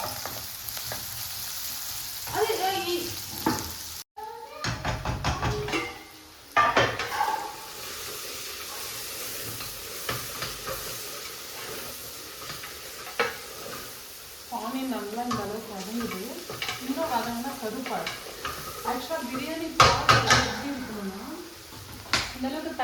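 Cut onions fry in a pan with curry leaves for mutton dum biryani, a continuous close sizzle with intermittent stirring scrapes, while a person talks over much of it.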